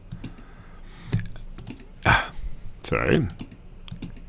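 Sharp mouse clicks at a computer during video editing, a few scattered taps and short bursts close to the microphone, with a brief spoken word in between.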